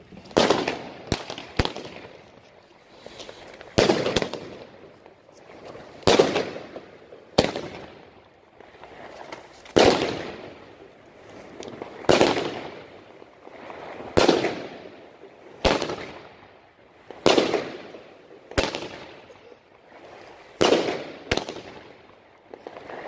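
A Pyroland consumer firework battery fires 13 shots, a sharp loud bang roughly every second or two, each ringing out with a crackling, echoing tail. The bursts sound close and outdoors with no talking.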